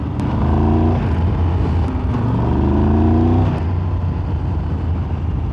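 A 2023 Triumph Tiger 1200 Rally Pro engine with a T-plane crank revs up and down repeatedly with a throaty, pulsing exhaust note, loud and close, no talking.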